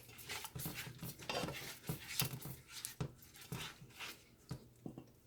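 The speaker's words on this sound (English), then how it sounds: "See, you have to keep it stirred. It's trying to stick a little bit at the bottom, even though I'm stirring it." A spoon scrapes and clinks around a stovetop pot of shrimp macaroni and cheese as the sticky mixture clings to the bottom, making quiet, irregular stirring strokes and soft metallic taps close by.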